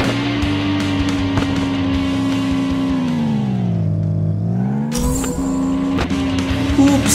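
A car engine races in the Mega Ramp Car Stunt video game, droning loudly and steadily, dipping in pitch midway and then climbing again as the revs build, with no voices over it.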